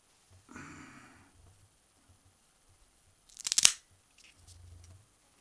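A cutter makes one sharp straight cut through the cap of a Cohiba Siglo VI cigar, a brief crisp crunching snip close to the mic amid otherwise quiet handling.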